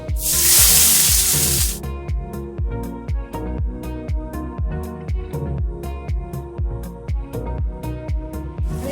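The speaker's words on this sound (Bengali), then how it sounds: "এবার আমি কুচনো পেঁয়াজটা দিয়ে দিচ্ছি।" Chopped onion hitting hot oil already tempered with black cumin and radhuni, a loud burst of hissing spatter at first that settles into a steady crackling sizzle, with a rhythmic tapping pulse running throughout and no talking.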